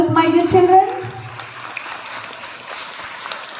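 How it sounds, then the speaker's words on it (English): Applause from schoolchildren at a school investiture ceremony, starting after a spoken request and settling into a steady, moderately loud patter of many hands, fading slightly toward the end. "Let us give them a big round of applause for their service, my dear children."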